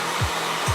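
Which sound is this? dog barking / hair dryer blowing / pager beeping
hair dryer blowing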